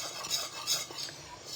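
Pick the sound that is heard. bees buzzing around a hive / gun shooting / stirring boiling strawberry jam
stirring boiling strawberry jam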